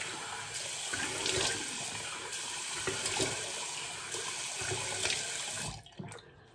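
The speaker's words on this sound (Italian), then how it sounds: "Allora, mi sciacquo con l'acqua fresca." Cold tap water runs steadily into a sink while someone rinses their face after a wet shave, with splashing bursts at intervals, close and moderately quiet, before the flow stops abruptly near the end.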